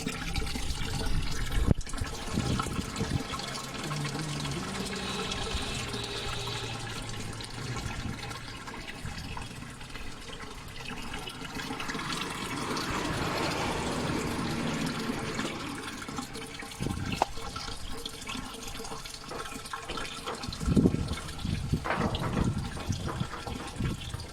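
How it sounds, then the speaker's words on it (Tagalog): Water flows from a 12V water pump during installation, a continuous gushing and splashing stream of moderate loudness with varying intensity and occasional knocks, with no speech over it. "Yung flow ng tubig sakto lang naman."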